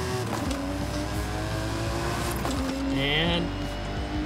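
A C8 Corvette Z06 in Forza Horizon 5 hums along at a steady engine note with a rising rev near the end, heard under someone talking.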